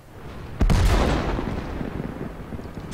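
A tank cannon fires in World of Tanks during T-54 gameplay, one loud, close boom followed by a long rumbling decay.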